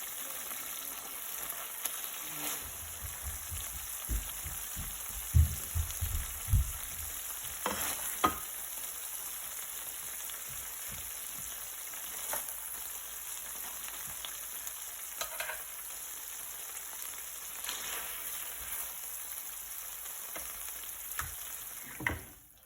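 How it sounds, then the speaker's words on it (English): Honey BBQ chicken bubbles and sizzles in its sauce, a steady close frying hiss broken by occasional soft knocks and pops of stirring. "after the chicken has been simmering in that sauce for about a minute"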